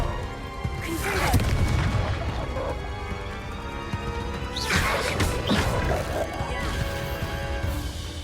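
Booming spell blasts from Confringo in the Hogwarts Legacy video game, two heavy crashing bursts several seconds apart over a loud, continuous battle din.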